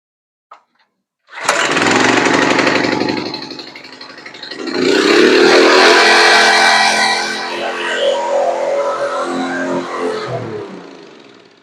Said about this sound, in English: now we're going to start the mower